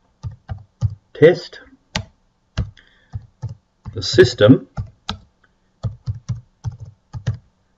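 Rapid clicks of keys being typed on a computer keyboard in short bursts, while someone speaks in between.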